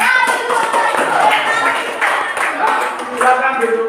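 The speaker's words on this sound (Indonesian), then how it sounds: "kasih tepuk tangan" Children at a school lesson clap together, a loud, close patter of many hands with uneven bursts of claps over a few seconds, mixed with chatter and voices.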